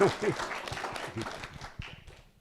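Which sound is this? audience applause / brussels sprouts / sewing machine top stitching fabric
audience applause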